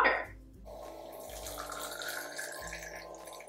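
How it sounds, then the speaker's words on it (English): Hot water pours steadily into a mug of tea sweetened with honey, a continuous close splashing stream that starts abruptly and runs to the end. "And then we're going to add in our hot water."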